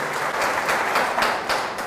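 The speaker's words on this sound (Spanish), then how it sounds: "Fuertes aplausos al Señor por su amor y su misericordia." Congregation applause at a Catholic healing mass in Mexico, a full, even wash of many hands clapping with a pulsing rhythm, alone and fairly loud throughout.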